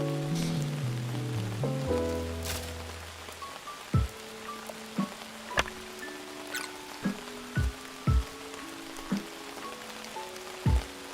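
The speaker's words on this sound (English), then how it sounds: "can't light the fire while it's raining" Rain falls in the video game Outbound, a soft continuous hiss beneath mellow lo-fi music with sparse plucked notes and low tones.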